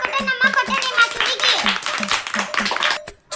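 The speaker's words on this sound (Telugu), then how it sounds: "గట్టిగా క్లాప్స్ కొట్టండి" Children clap together in a tuition class as a quick, rhythmic patter of hand claps, with children's and adults' voices talking over them and a short pause near the end.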